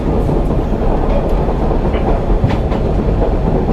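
The Kuranda train runs at close range with a loud, continuous rolling rumble and some clickety-clack of wheels over rail joints, steady for the whole stretch, with no talk.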